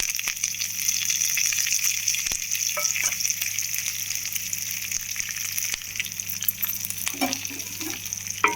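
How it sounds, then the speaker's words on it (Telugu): Garlic, cumin, mustard seeds, chana dal and curry leaves sizzle in hot oil as a tempering for a spicy chickpea fry, giving a steady crackling fry with occasional stirring scrapes and no talk. "ఇప్పుడు తాలింపు సామాన్లు వేసుకుంటున్నాం. వెల్లుల్లిపాయలు, జీలకర్ర, ఆవాలు అండ్ శనగపప్పు, కరివేపాకు."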